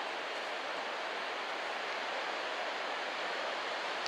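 Small, gentle ocean surf at Sendai Newport beach in Japan, a steady soft wash of breaking waves that continues without pause and carries no talk.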